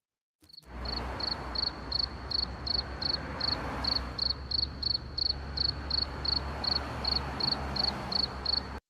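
Cricket chirping on a steady beat, dozens of short pulsed trills repeating about every third of a second, close and clear over a low hum, with no voices.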